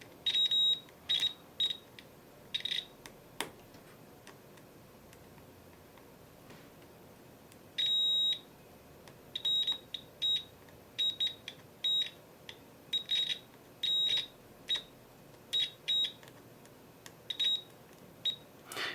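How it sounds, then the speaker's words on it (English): Multimeter set to continuity mode beeps while probing a Nintendo DSi XL circuit board with an orange-light fault, giving short high electronic tones in irregular bursts, some single and some clustered, fairly quiet against a soft background. "I've got this on continuity mode, and for some components, which you can probably hear in the background"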